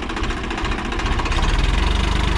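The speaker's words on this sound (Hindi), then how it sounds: "स्टार्ट हो गया ट्रैक्टर" Swaraj 963 FE diesel tractor, a 2019 model, running at idle after starting, with a steady, loud, close low rumble and a rhythmic knocking pulse.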